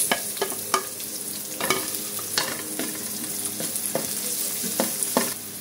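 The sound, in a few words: onion sautéing in a pan for kare-kare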